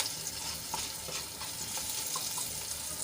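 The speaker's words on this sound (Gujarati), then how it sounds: "આપણા મરચાં સંતળાઈ ગયા છે" Green chillies sautéing in a pan while cooking potato kachori, a steady close sizzle and crackle of frying oil with faint stirring scrapes running evenly throughout, no voices.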